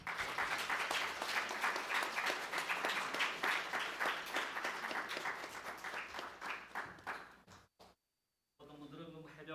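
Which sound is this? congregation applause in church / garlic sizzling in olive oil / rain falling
congregation applause in church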